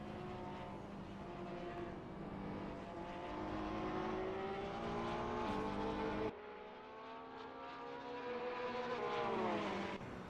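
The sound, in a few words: Ferrari 488 GT3 race car driving at Mugello, from a racing video game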